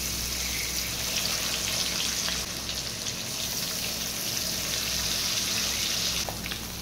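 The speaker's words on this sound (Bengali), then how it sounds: "এখন একে একে মাছগুলো ভেজে নেব" Pieces of silver carp frying in hot mustard oil, a steady close crackling sizzle holding evenly throughout, with a faint scrape near the end and no talking.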